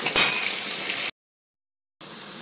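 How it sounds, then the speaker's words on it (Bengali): Onions sizzling in a hot pan as they fry until brown for a Bengali doi chingri prawn curry, a steady bright hiss that cuts out for about a second and then resumes. "পেঁয়াজটাকে একটু ব্রাউন করে ভাজবো বন্ধুরা।"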